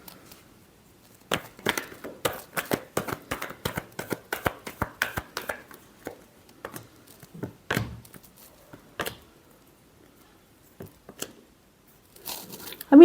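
Tarot cards are shuffled by hand in quick bursts of crisp riffling snaps and slaps, close and dry against near silence, thinning out into a few scattered taps and rustles before a final thump.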